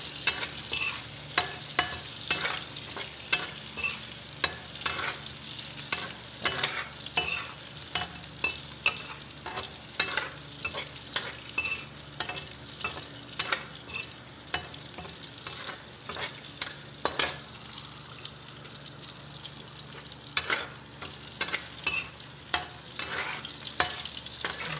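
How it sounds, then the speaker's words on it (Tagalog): Squid balls for a sotanghon dish frying in a pan, a continuous sizzle punctuated by frequent sharp scraping and clacking strokes of a spatula, close and alone with no voices. "So, iprito natin bahagya ito."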